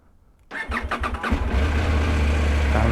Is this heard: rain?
no